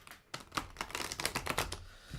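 A large, oversized French deck of cards is shuffled by hand, giving close, quiet, rapid papery riffles and taps in a short irregular burst.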